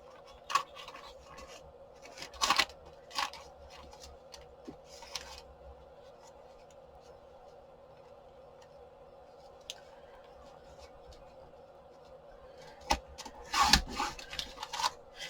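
Quiet scissors cutting letter-size paper sheets down for a handmade journal, a few short crisp snips and rustles early and late, with a steady low hum and near silence between.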